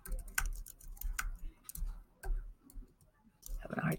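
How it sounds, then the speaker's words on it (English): Typing on a computer keyboard while setting up a Google Form, with irregular clicking keystrokes in scattered bursts, close and moderately loud, with a brief rustle near the end. "a hard time typing"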